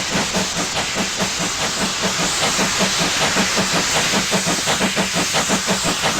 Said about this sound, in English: This thing's just a veritable cacophony of air and steam and sound, isn't it?